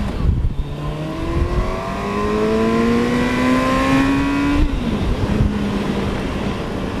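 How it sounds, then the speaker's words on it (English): A 2019 Kawasaki Versys 1000 SE LT motorcycle accelerates hard: the engine note climbs steadily through a long rising rev, upshifts with a quick shifter, then settles and pulls again, loud and close, with wind rumble and no talking. "That is the exact right amount of acceleration that you'd want in an adventure, sport, / whatever, touring motorcycle."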